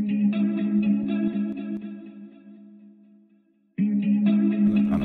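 Guitar melody loop run through an Echo Boy echo plugin, chorused and slightly distorted notes that fade into a lingering echo tail, then the loop restarts loudly.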